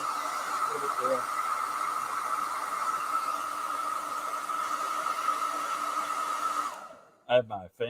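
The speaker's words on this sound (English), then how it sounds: "I have my fan set to hot." A fan set to hot blows a steady, loud rushing hiss for about seven seconds, then cuts off abruptly, with a few brief bumps and sounds after it stops.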